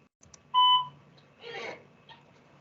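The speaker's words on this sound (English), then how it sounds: "You heard the beep." A Harding MicroComm intercom gives a short electronic connection beep after an intercom call command, a single clear tone followed by fainter clicks and noise in a quiet room.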